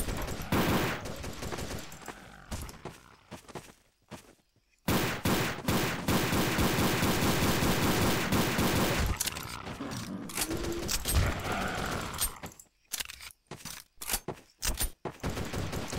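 Gunfire in the video game Codename Cure, with long loud bursts of rapid automatic shots broken by brief pauses and short scattered volleys, with no talk over it.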